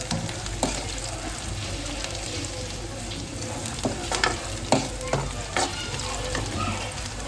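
Onions soften in a hot pan with a constant loud sizzle, as a spoon stirs through them with occasional sharp scrapes and taps against the metal.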